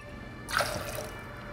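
Tanqueray gin, about 6 cl, poured into a cocktail shaker for a Ramos gin fizz: a short splashing, trickling pour starts abruptly and runs on quietly, close by, with no talk.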